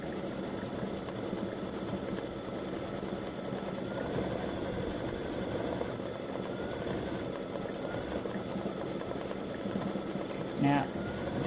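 An embroidery machine stitches freestanding lace patriotic oval earrings with a steady, close, rapid needle rattle throughout, and a short clunk near the end.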